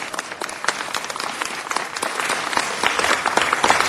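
A crowd at an outdoor gathering on the banks of the Los Angeles River claps for KABC Television, dense applause that grows steadily louder toward the end.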